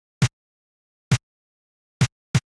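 Snare drum track isolated from a music mix: four sharp, crisp hits with a full body, the first three roughly evenly spaced and the last following close behind, each ringing briefly before silence.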